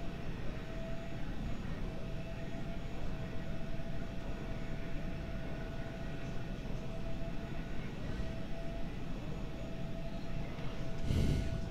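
Jet engines of a Cessna Citation 550 in the Prepar3D flight simulator hum in a steady, moderate drone with a faint tonal whine as throttle is added, swelling slightly near the end.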